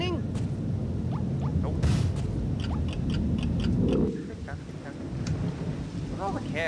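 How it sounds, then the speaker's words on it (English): Rain falls steadily with low rumbling thunder in the dark, gloomy level of the video game BattleBlock Theater, a continuous stormy wash that drops a little in level partway through, with scattered game blips over it. "Maybe our friends came in here to take shelter from the rain."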